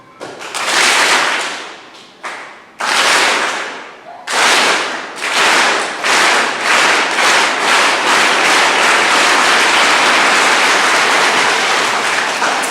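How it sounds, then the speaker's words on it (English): A school audience at a science outreach session claps on cue in loud, sharp bursts: a few single unified claps with pauses, then a long sustained round of clapping, close and alone. "2 కాదు, ఒక్కటే క్లాప్ రావాలి."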